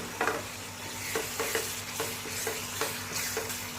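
Thick paneer peda paste stirred in a hot pan, a spoon scraping through it in repeated strokes about every half second over a steady soft sizzle, close and alone with no voices.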